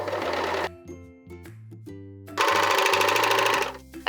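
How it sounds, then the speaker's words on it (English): Serger overlocking layers of power mesh, satin and knit fabric, a close whirring motor hum that runs, drops to a low idle, then surges again in fast buzzing bursts. "we're gonna serge straight across this line here"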